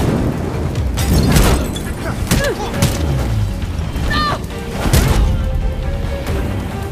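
Explosions and crashing debris from the Gotham Knights video game, a loud, continuous barrage of booms and bursts with a few sharper cracks, heard alongside game sounds and some talk.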